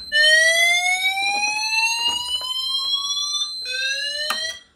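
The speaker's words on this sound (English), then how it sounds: "we should hear the fire alarm" A Pertronic F1 fire alarm panel sounding after a manual call point is triggered: a loud, continuous electronic alarm with rising sweeping tones, a brief break near the end, then the sweep resumes before cutting off.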